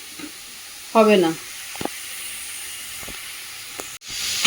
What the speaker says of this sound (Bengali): এটা আমি ভালো করে একটু হাই ফ্লেমে একটু ভালো করে ভেজে নেব।